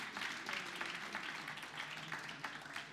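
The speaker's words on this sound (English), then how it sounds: "a round of applause, please, for Lee." A magic show audience applauds, dense steady clapping from many hands held at a fairly faint, distant level for the whole stretch.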